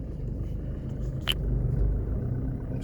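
A car idles with a steady low engine rumble after being shifted into reverse, a brief click sounding partway through.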